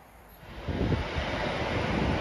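A Class 390 electric train runs through Sandwell & Dudley railway station, a broad, windy rumble that swells and holds steady close by, with no voices.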